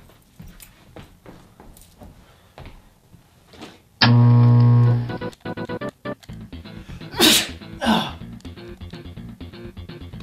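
A person sneezes indoors: one loud, sharp burst sits among quieter rustling and handling noises, followed a few seconds later by two smaller sneeze-like bursts.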